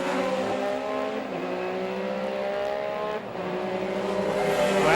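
A BMW M3 GTR E46 race car at Donington Park in 2001 brakes and accelerates through a hairpin, its engine note sweeping up through the gears with a brief dip at a shift, loud and close, with no talk.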